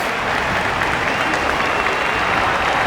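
A huge stadium crowd of about 100,000 roars continuously at a Karate Combat fight, a dense, loud, steady wall of cheering with no breaks.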